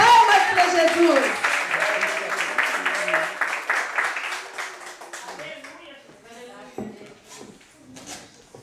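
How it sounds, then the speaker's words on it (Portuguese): A church congregation claps in praise, rhythmic hand claps loud at first and then thinning out, with a voice speaking over them and some sung or shouted tones near the start. "palmas, palmas para Jesus!"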